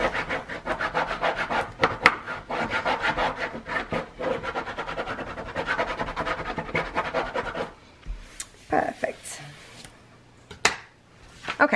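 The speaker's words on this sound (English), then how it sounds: "This is a Teflon bone folder. And I'm gonna go ahead and burnish this really good." Teflon bone folder burnishing paper for layered journal covers, a steady close scraping rub that runs continuously, then gives way to a few scattered rubs and faint handling noises near the end.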